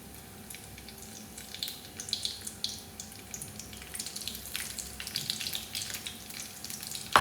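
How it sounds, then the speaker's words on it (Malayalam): Mustard seeds splutter and sizzle in hot oil for an eggplant stir-fry, a soft, steady crackle with scattered pops growing slightly busier toward the end, heard faintly with no talking. "കടുക് പൊട്ടാൻ തുടങ്ങിയിട്ടുണ്ട്"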